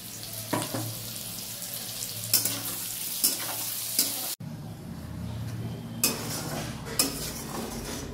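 Spice masala frying in hot oil in a pan while cooking matar paneer, a soft steady sizzle broken by sharp clinks of a metal spoon stirring against the pan.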